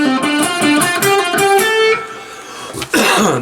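An electric guitar plays a funky riff, a run of sharp, bright picked notes and bends with a brief pause before a final strummed hit, close and alone.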